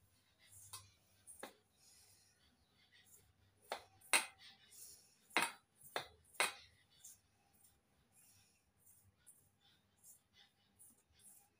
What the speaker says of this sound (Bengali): এবার সব কিছু উপকরণ দিয়ে ভালো করে মিশিয়ে নিচ্ছি।